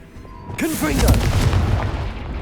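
In Hogwarts Legacy, a Confringo fire spell erupts in a sudden loud booming blast after a brief quiet moment, its rumbling fiery roar lingering and rolling on to the end.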